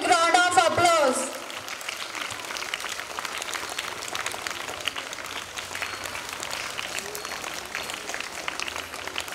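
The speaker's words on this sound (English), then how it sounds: "Give them a big round of applause." Sustained round of applause from a school audience at a high school event, a brief spoken voice at the start giving way to steady, even clapping that continues to the end.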